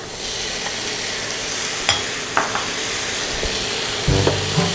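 Pork hitting a hot frying pan of softened tomatoes for binagoongan, a steady close sizzle with a few sharp crackles and a louder burst of frying near the end, no talk.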